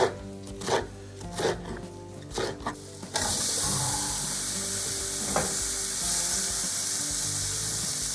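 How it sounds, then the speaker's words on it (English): Sliced peppers sizzle steadily in a frying pan for a steak pizzaiola, preceded by a few sharp knocks and stirring scrapes, then a loud continuous hiss of frying with an occasional clack of a utensil. "So we're gonna let the peppers cook, and then we're gonna add the cherry tomatoes."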